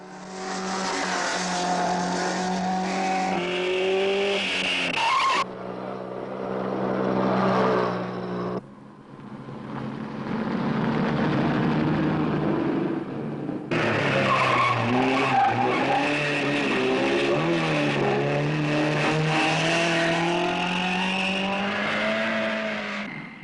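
A rally car's engine roars and revs through a long run, with tyres squealing and skidding in sustained, loud passes that shift in pitch, broken by a brief quieter stretch midway.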